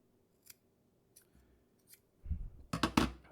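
Scissors snipping small foam light-seal patches for a camera: a few soft, quiet clicks, then two or three louder close snips near the end.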